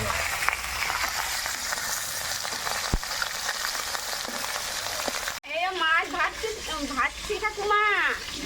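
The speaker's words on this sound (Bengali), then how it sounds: "মাছ ভাজছে" Crackling sizzle of rohu fish frying in hot oil for about five seconds, then an abrupt cut to a different noisy scene with warbling tones over the sizzle.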